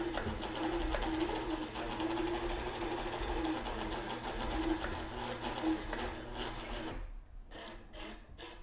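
Close and loud, a sewing machine runs continuously, stitching a muslin hem for a hat strap. Its whirring steadies for about seven seconds, then stops and restarts in short bursts.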